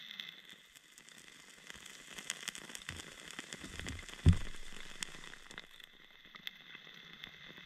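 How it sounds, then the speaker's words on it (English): Rain falling outside at a wet bushcraft camp where a fire is being started: a quiet, steady patter and crackle of drops, with a soft thump near the middle. "And it's raining, it's wet outside"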